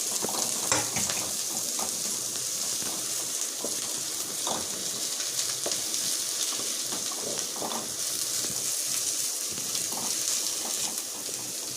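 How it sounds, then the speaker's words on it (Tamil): Onions and green chillies sauté in oil in a pan, an even crackling sizzle with small pops, close and steady throughout with no speech. "வெங்காயம் நல்லா வதங்கிடுச்சு. பச்சை மிளகா போட்டுக்கோங்க."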